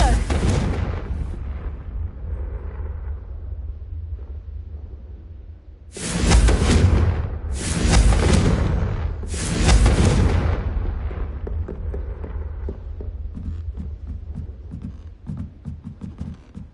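Three loud, booming explosions in close succession from the Confringo blasting spell in Hogwarts Legacy, each a broad rumbling burst, following a quieter stretch of game ambience and trailing off into softer noise.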